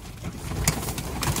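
Hyderabadi pigeons kept inside a loft give a brief, close coo over a low room hum.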